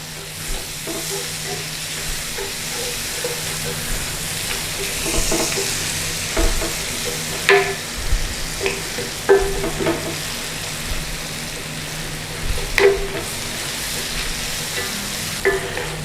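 Garlic and a pinch of pepper fry in a pan with a steady, close sizzle. A utensil stirs and scrapes now and then, giving brief clinks and bursts of crackle.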